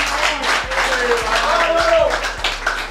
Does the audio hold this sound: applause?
yes